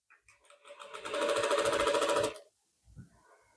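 Sewing machine stitching a band neck collar on a lining suit: a few short stuttering stitches build into a loud, steady run of rapid stitching lasting about a second and a half, then stop, followed by one brief burst.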